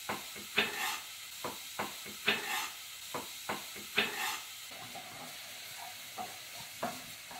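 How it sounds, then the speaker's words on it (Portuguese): Onion frying in a pan while a spoon stirs it, with repeated scraping strokes in an irregular rhythm over a soft, steady sizzle, close and fairly quiet. "Já dourou a cebola, agora a Jane tá pondo a batata moída"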